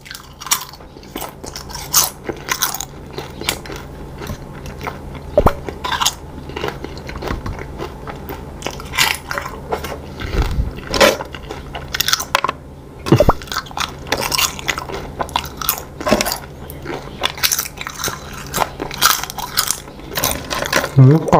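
Crunchy, close-up chewing of kaffir lime fruit and crisp kaffir lime leaves, with loud bites and crackling crunches repeating steadily, plus occasional wet squishes.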